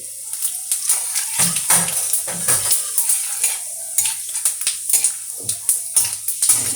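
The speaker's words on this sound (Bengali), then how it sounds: "এবার আমি দিয়ে দিচ্ছি শুকনো লঙ্কা, দুটো তেজপাতা আমি ছিঁড়ে দিচ্ছি, আর দিয়ে দিচ্ছি একটু জিরে" Dried red chilli, torn bay leaves and cumin seeds crackle in hot oil in a pan, loud close sizzling broken by a run of sharp spits and pops, with the clatter of a spoon stirring.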